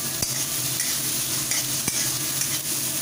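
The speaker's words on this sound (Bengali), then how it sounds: "এবার পেঁয়াজ এবং লঙ্কাগুলোকে ভালোভাবে একটু ফ্রাই করে নিচ্ছি।" Onions and green chillies sizzle steadily in a hot pan, a continuous close hiss broken by two sharp stirring clicks, with no voices.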